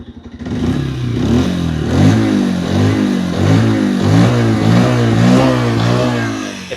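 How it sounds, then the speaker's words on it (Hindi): A 125cc motorcycle engine revs up loudly and close as the throttle opens, its pitch rising and falling through several surges, no talking. "अब मैं देता हूं थ्रॉटल।"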